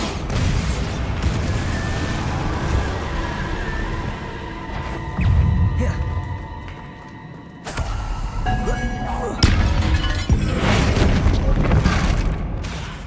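Bombarda spell blasts in the video game Hogwarts Legacy, loud booming explosions with thuds landing in a dense, continuous stretch of combat noise, one heavy hit arriving near the end.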